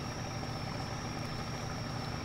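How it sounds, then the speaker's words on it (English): Truck engine in Spintires MudRunner idling while driving through river water, a steady low rumbling drone with constant hiss, close and unbroken. "sounds like I'm just like idling through this"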